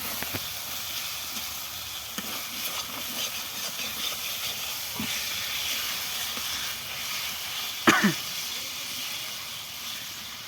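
Potatoes fry in oil with masala for aloo kurma, producing a steady, even hiss with occasional light knocks and one sharper clank near the end.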